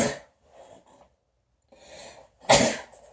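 A single sharp, loud human sneeze bursts out close by, preceded by a couple of quick inhaling breaths and followed by a short exhale.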